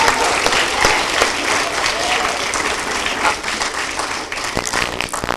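Applause from the audience at a city council meeting, sustained clapping of many hands at fairly close range, with a few sharp individual claps standing out and the sound tapering slightly toward the end.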